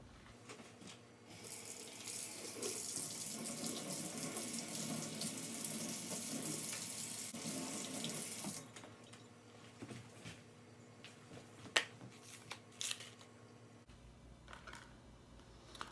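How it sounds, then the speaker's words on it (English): Running tap water rinses orchid roots in a tray, a steady close splashing stream for several seconds that then cuts off, followed by wet drips, squishes and small handling clatters. "I'm going to go ahead and give this a rinse and switch trays."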